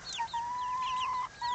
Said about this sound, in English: So these are our new chickens.